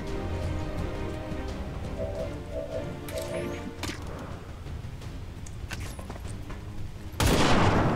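Rifle gunfire in XCOM 2 amid game sounds, a few sharp bursts and clicks, ending in a loud, sudden blast.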